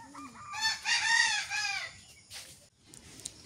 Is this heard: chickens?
yes